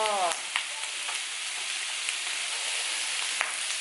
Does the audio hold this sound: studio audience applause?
no